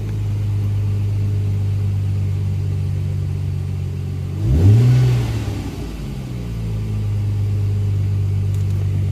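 A 1999 Plymouth Prowler in Prowler Red idles with a steady low hum, then gives one sharp rev that rises, peaks and falls back to idle, close and fairly loud.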